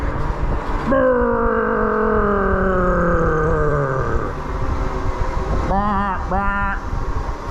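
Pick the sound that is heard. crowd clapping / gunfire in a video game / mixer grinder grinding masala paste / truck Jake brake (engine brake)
truck Jake brake (engine brake)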